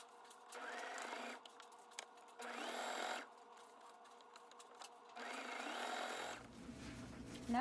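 A home sewing machine stitches fabric for a scrunchie in three short motor bursts, each a close, rising whir separated by quiet pauses, with soft handling noise of cloth between runs.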